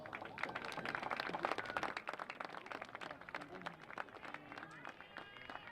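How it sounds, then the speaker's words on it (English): Soccer fans applaud at a BGSU women's soccer match against Kent State, a faint, distant patter of clapping under an announcer's amplified voice that continues over it. "Let's give them all a round of applause."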